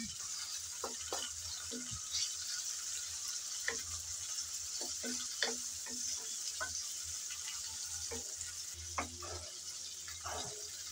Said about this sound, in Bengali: চিংড়ি মাছ আমি নেড়ে চেড়ে 2-1 মিনিট ভেজে নিলাম